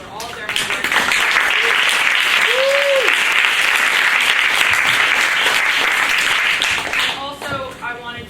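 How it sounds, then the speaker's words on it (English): Sustained applause from a theatre audience for advanced theatre students, loud and dense clapping that fills nearly the whole stretch before tapering off at the end, with a brief whistle-like tone partway through. "giving them a round of applause for all of their hard work"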